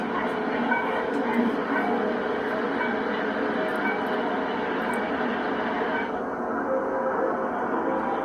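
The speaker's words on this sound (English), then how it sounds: "Ah, it's got that classic Lionel sound." A Lionel model train runs on a layout at a 1999 train show, giving off a steady, continuous rumbling whir that holds even throughout, blended with the murmur of a crowded hall.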